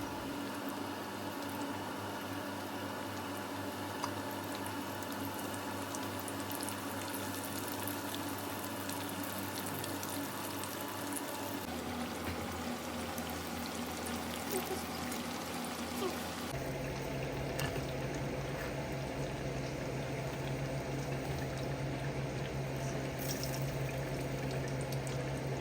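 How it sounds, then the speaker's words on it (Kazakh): Eggplant frying in a pan of hot oil gives a steady, dense sizzle that runs unbroken for the whole stretch, shifting slightly in texture partway through, with no talking. "қызып тұрған майымызға баклажанды қызартып қуырып аламыз"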